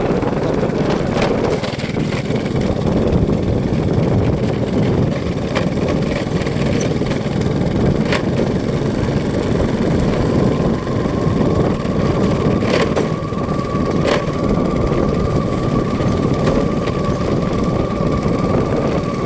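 A steady engine drone runs throughout from an older family motorbike being ridden, a continuous mid-pitched hum with no breaks, close and fairly loud.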